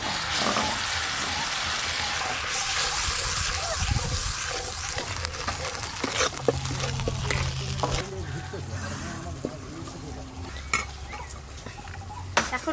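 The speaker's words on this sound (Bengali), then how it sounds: "গুঁড়ো মশলা যাতে পুড়ে না যায় অল্প একটু জল দেব।" Pan of spices frying in oil, with ground cumin and coriander, sizzles loudly as a little water goes in, a steady hiss and crackle with scraping stirs throughout, a voice speaking over it at times.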